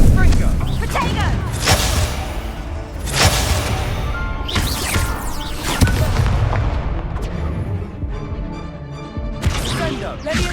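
Booming spell blasts from the Hogwarts Legacy video game, several heavy impacts spaced a couple of seconds apart amid dense combat noise, with a voice calling out spells over the action.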